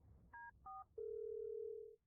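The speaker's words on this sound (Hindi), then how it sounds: "फोन लगाओ, फोन लगाओ, मैं अभी साहब को फोन करती हूँ।" A telephone is dialed: two short keypad tones, then one long steady tone held for about a second, clear and close in a quiet room.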